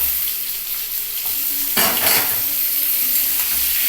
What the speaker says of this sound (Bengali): এবার পটলটাও আমি ভেজে নিচ্ছি